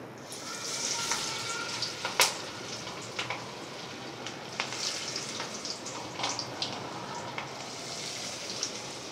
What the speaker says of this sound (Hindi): जब हम कबाब डालेंगे तेल के अंदर, तो इस पॉइंट पर आपका तेल हो जाना चाहिए बहुत अच्छे से गरम।